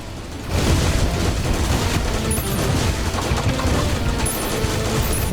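Missiles explode in Terraria Calamity in a dense, rapid barrage of booms and crackling blasts. The barrage kicks in sharply after a brief quieter opening and stays loud for the rest of the clip.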